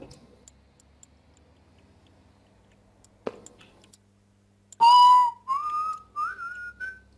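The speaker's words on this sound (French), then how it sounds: "arrête de siffler, arrête de siffler. C'est horrible." A person whistles over TeamSpeak voice chat: after a few quiet ticks, a loud, close whistled tune of several rising notes starts, with short gaps between the phrases.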